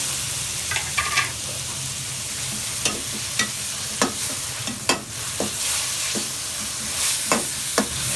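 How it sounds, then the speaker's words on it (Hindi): Chopped onions and tomatoes sautéing with ginger-garlic paste in a pan, a soft continuous sizzle broken by repeated scraping clicks of a spoon stirring, close and moderately quiet. "पहले इसको जरा थोड़ा सा सोते कर ले प्याज को"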